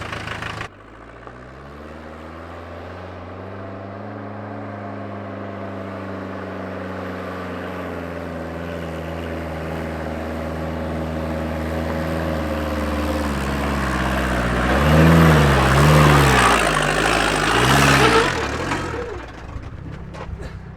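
A vehicle engine revs and strains steadily on a run-up during a Himalaya crossing, its pitch climbing and wavering loudly near the end before cutting off abruptly.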